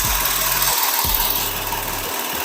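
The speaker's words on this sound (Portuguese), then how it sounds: "Esse aqui, ó, eu vou baixar o calcador e costurar." A Brother BAS 304/311A programmable industrial sewing machine, under repair, sews in short loud bursts of rapid mechanical hum and rattle, with a brief pause between runs.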